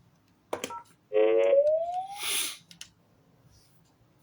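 A telephone keypad sounds dialing tones: a short burst and then a sustained tone that slides upward, followed by a noisy breath-like hiss, with faint sounds around it in a quiet room.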